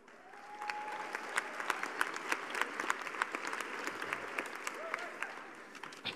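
Applause from an audience, building quickly into sustained clapping with sharp individual claps standing out, while a voice speaks faintly underneath.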